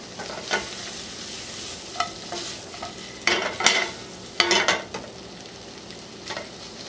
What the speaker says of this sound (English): I'm browning up a little bit of smoked sausage to throw in it.